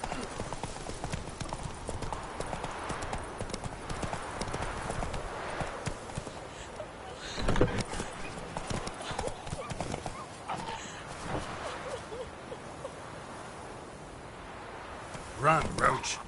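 Horse hooves galloping in The Witcher 3 on PS4, a quick, continuous drumming of hoofbeats close by under game ambience, with a few heavier thuds and a brief jingle near the end; speech occurs faintly at times.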